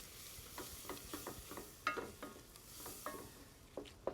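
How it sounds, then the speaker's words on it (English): Onions, butter and flour sauté in a pan with a quiet, close sizzle punctuated by soft, irregular taps of stirring. "We're going to saute"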